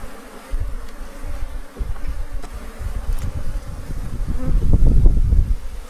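Honeybees buzz steadily around an open hive during a spring inspection, a dense droning hum that swells louder and closer near the end.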